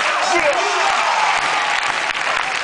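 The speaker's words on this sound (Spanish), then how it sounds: "Palmas, quiere todo el mundo palmas para el Cuello." A crowd claps steadily to cheer on a jumper at an outdoor jumping exhibition in Bajo Aragón, Spain, with a loud announcer's voice carrying over the continuous clapping.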